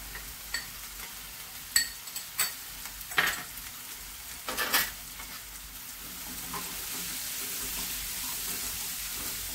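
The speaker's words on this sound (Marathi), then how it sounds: "ही कंटोली आपण धुवून कापून घेतलेली आहे, ती टाकूया।" Cut spine gourd (kantoli) goes into a hot pan and is stirred, with scattered scraping clicks early on and then a steady frying sizzle that grows slightly louder, with no talking.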